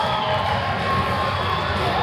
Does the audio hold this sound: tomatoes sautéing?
no